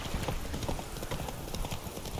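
Horse hooves clip-clop at a steady trotting rhythm in The Witcher 3, close and continuous with faint ambient noise around them.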